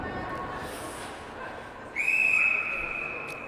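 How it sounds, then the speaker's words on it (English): A referee's whistle at a youth ice hockey game gives one sharp, sustained shrill blast cutting through the arena murmur, preceded by faint crowd noise. "He blew the whistle and changed his mind."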